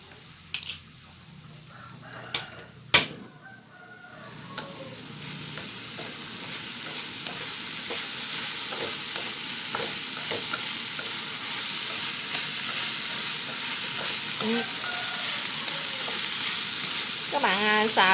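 Onion stir-fried in a pan for a vegetarian beef-style noodle dish, a steady close sizzle and hiss with scraping stirs and a few sharp clinks of the utensil against the pan, a rooster crowing faintly in the background.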